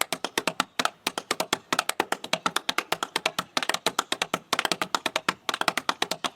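Clogging dancer's tap steps strike out a fast, steady stream of sharp, close percussive clicks, with brief pauses between phrases and no talking.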